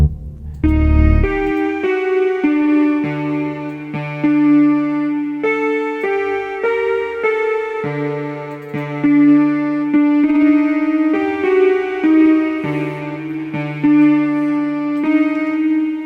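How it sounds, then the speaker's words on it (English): A steady synth bass line pulses low beneath layered electronic chords, the notes shifting in a repeating pattern, loud and continuous with no voices. "I beg your pardon, that's the bass."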